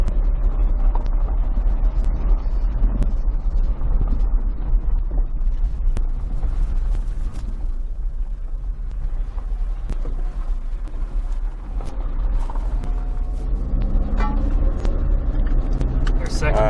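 A car engine accelerates while driving, the loud, rough engine noise rising and dipping as it shifts up through the gears, with people talking over it.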